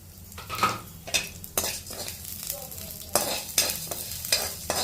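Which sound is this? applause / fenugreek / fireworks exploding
fenugreek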